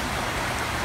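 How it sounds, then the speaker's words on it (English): Steady rain falling over flooded woods on a college campus, a loud, dense hiss of drops on wet ground and leaves, continuous and close. "walking in the rain"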